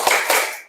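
Primary schoolchildren in a classroom clap out a group chant, giving two sharp, close hand claps in quick succession that then fade away.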